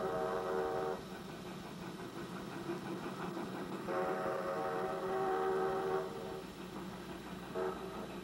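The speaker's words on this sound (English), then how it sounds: "With bells and whistles sounding, model trains from all over drifted into their stations." Model trains at an annual model railroad show sounding their horns and whistles in repeated sustained blasts, three long calls and a short one, over a steady rumble of running trains and hall noise.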